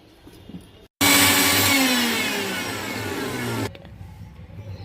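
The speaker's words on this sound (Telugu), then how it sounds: "ఇది మిక్సీ చేయాలండి." Mixer grinder blending cashews, poppy seeds and coconut powder in a jar, starting abruptly with a loud, high whirring roar that eases slightly as it runs for about three seconds, then stops.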